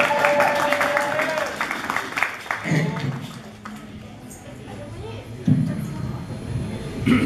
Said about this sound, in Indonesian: Fitri, berikan tepukan